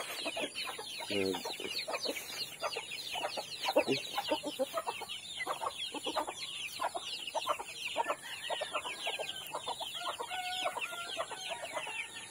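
Chickens and small chicks cluck and chirp busily at feeding time, a dense, continuous chorus of overlapping calls with a rooster-like crow rising near the start.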